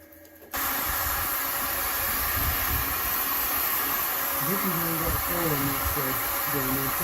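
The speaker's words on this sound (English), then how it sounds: "We're going to turn the heat guns on." Several heat guns switch on together after a brief quiet moment, a loud steady hiss and roar that runs on continuously, with a low tonal whine appearing partway through, as they load a 10kW hybrid inverter.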